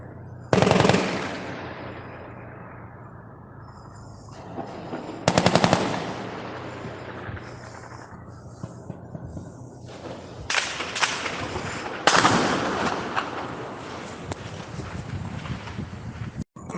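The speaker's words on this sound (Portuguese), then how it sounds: "o tiroteio aqui no centro tá louco" Gunfire in a city centre, several bursts of rapid automatic shots with sharp, loud attacks and echoing decays, separated by quieter gaps, with more fire later on.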